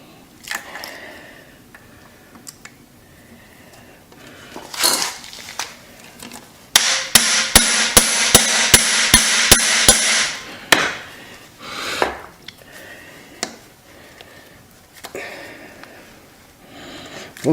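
Rapid hammer strikes on tight, likely rusted screws in the engine case of a 1989 Suzuki RMX 250 vintage dirt bike, a close burst of about ten sharp metallic blows with a few scattered single knocks around it.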